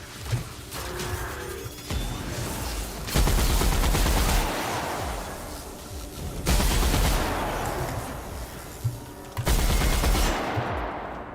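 Gunfire in the video game The Outer Worlds, dense bursts of loud automatic shots and crashing impacts coming in waves over about eleven seconds, close and continuous.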